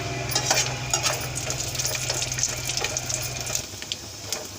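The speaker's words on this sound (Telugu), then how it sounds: "ఎండు కొబ్బరి, కొద్దిగంత జీడిపప్పు 2 కొంచెం కలర్ వచ్చే వరకు వేయించుకోవాలి." Dry coconut and cashews fry in a pan for vermicelli, a close, continuous crackling sizzle scattered with small pops and stirring scrapes, moderately loud with no talk.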